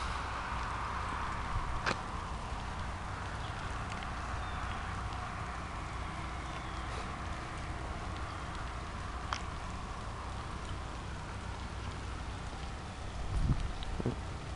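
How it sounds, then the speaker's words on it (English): Steady, soft hiss of freezing rain falling outdoors during an ice storm, with occasional faint ticks and taps of drops landing, continuous and even throughout. "freezing rain"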